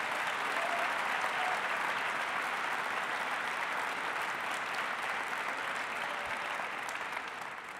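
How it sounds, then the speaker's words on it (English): Crowd applause at the 2018 New York State Democratic Convention, a continuous wash of many hands clapping in a large hall, sustained and even, fading slightly toward the end. "Let's give them a round of applause."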